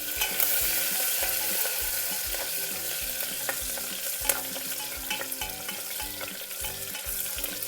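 Chopped ginger, green chillies and curry leaves sauté in a hot pan, a steady close sizzle with repeated rhythmic scraping and stirring strokes, one sharper clink midway, no talking.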